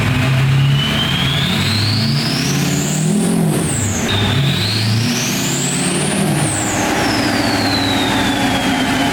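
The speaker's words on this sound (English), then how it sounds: "after strapping the truck in, we made a couple test runs to make sure it was on the dyno properly" A 6.0L Powerstroke diesel truck engine runs on a dyno, loud and steady throughout, with rising and falling whine sweeps as it spins up and eases off during short test runs.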